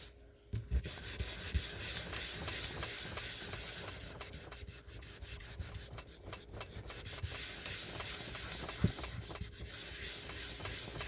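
Steady, continuous abrasive rubbing of sanding on a hard resin piece, close up, with a few small knocks along the way.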